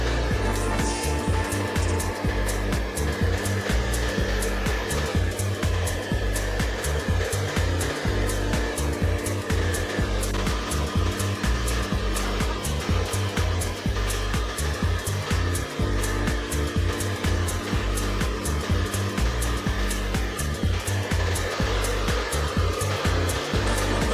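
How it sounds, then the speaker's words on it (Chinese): Hair dryer blowing steadily on permed hair after a perm treatment in a salon, a loud, continuous whir with a constant drone that runs unbroken from start to finish. "会建议顾客适当的把头发吹干即可"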